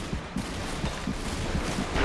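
Gunfire in The Darkness video game rattles off as a rapid string of muffled shots, steady and dense across the moment, with no one talking over it.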